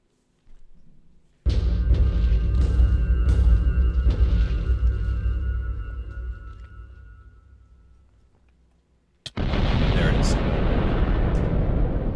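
Two loud explosive detonations in the Minecraft-style JusticeCraft server game: a first booming blast with a long rumbling decay, a pause, then a second sharp, bigger boom, with no talk over it.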